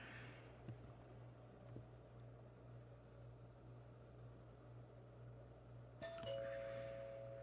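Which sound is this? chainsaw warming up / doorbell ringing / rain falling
doorbell ringing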